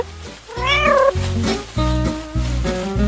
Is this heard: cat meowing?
yes